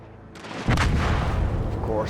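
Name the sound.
ship exploding under artillery fire in World of Warships video game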